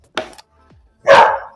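Dogs at a doggy daycare give a short sharp bark, a faint yip, then a louder, longer bark, close and alone.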